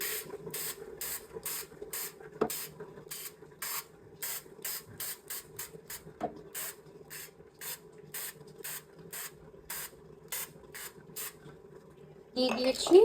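Oil is sprayed onto foil in an air fryer for cheesy french fries: a long run of short, rhythmic hissing spritzes, about twenty in quick succession, close and crisp over a faint mechanical hum.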